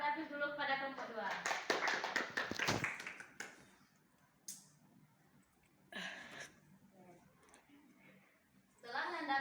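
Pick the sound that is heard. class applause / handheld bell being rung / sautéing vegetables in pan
class applause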